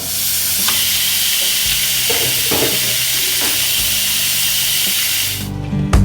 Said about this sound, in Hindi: हम पहले इसकी विसल हटाएंगे ताकि इसकी एयर निकल जाए